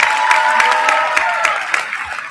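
Applause and cheering from a graduation commencement crowd for a graduating student, steady clapping from many hands with a faint tone running underneath and occasional louder claps.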